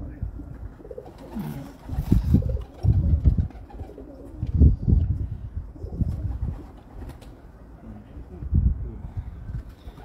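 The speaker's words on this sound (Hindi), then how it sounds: "डब वाले कबूतर जी डब वाले कबूतर" Low, throaty pigeon coos repeat in soft bursts through the whole stretch, fairly close, with a little background rustle between calls, from pigeons kept on a rooftop in Hafizabad, Pakistan.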